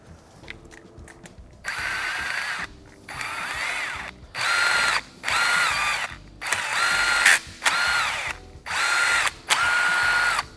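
A screw gun spinning on a Porsche 3.2 head stud in a series of about six whirring bursts with pauses between, close and loud, with some clicking and handling noise in the gaps.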